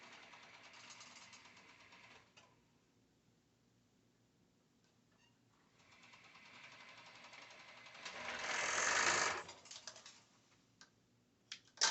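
A sewing machine stitches a yoke onto exotic dancewear rave shorts, running in faint, intermittent whirs with a louder, longer burst near the end, and no talking.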